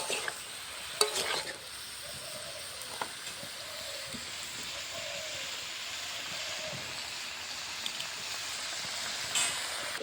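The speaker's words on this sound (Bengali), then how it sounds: "আমি সবজিটা ঢেকে দেবো না, ঢেকে দিলে জল বেরোবে। এরকম করে কষিয়ে কষিয়ে রান্না করবো।" Mixed vegetables are stir-fried uncovered in a pan for a Bengali five-vegetable ghonto, giving a steady hiss and sizzle with a few scattered scrapes and clinks of a utensil.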